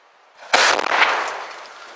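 A homemade thermite device built around a box cutter bursts with a sudden loud blast, followed by a roaring, crackling burn that slowly fades outdoors.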